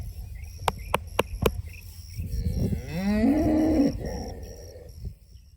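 On a farm, cattle let out a long, loud, drawn-out moo after a few sharp clicks, with faint insect-like ambience and no talking.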